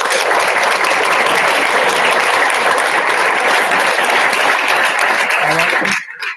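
An audience at a French-language education conference applauds its speakers, a dense, steady clapping that fills the room for about six seconds before cutting off abruptly.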